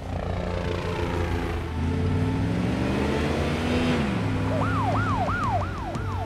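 Police car siren wailing in rising and falling sweeps, joining a steady engine or rotor drone from a helicopter chase; the siren enters loud and close partway through and cycles repeatedly.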